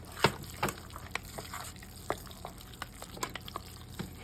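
Seasoning is worked by hand into ground chicken and turkey for Haitian-style burgers, giving soft, irregular squishing and slapping sounds, close and quiet with no voices.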